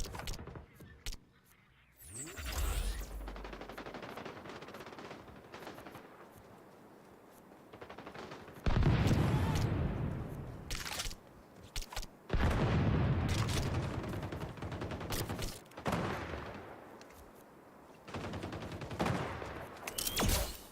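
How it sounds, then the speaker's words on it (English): Bursts of AK rifle gunfire in the online shooter XDefiant, loud clustered volleys separated by short pauses, mixed with booms and game effects. "I want to try the AK."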